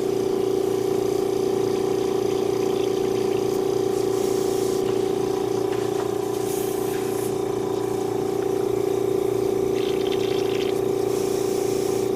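An air compressor feeding an airbrush hums steadily with a constant tonal drone, while short hissy bursts of spray come and go over it as paint is blasted through before a Gundam model kit is painted.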